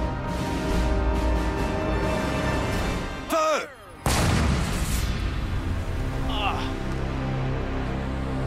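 A single deep blast from an M777 howitzer booms loudly amid background chatter from a crowd, followed by lingering rumble and continued voices.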